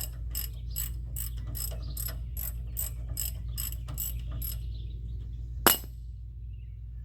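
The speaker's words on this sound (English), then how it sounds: "You got a power ratchet? Yes, it's a lot easier." A power ratchet removes bolts from the rear brake of a 2003 Dodge Ram 2500, clicking in a quick, steady series over a low hum, then stops; a single sharp metallic clink follows.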